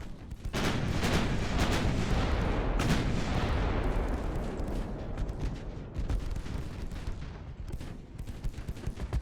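Heavy naval gunfire in Ultimate Admiral: Dreadnoughts, set in the Denmark Strait battle between Bismarck and Hood: a dense, continuous barrage of booming cannon blasts with sharp salvos, loud throughout and no talk.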